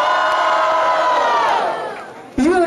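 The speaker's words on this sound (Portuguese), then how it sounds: "Diferentemente, barulho para Barreto e Tubarão" A loud crowd at a Brazilian street rap battle cheers and shouts continuously, the roar fading slightly before a fresh burst of whoops near the end.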